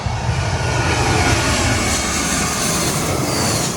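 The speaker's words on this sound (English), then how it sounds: "We got a plane coming in." A Spirit Airlines jet passes low over Maho Beach on approach to Princess Juliana Airport in St. Martin, a loud, sustained roar of aircraft engines close overhead.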